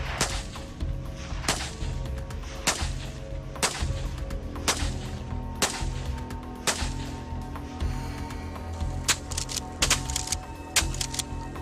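12-gauge shotgun firing Dragon's Breath rounds at consumer-grade drones, roughly a dozen sharp reports spaced about a second apart, with faint echoing tails between shots and no talking.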